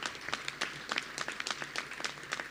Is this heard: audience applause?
yes